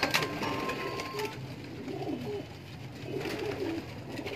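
Golden pigeons coo softly at a breeder's loft inside Lahore's Delhi Gate, with low throaty calls repeating over a steady background hum and no voices.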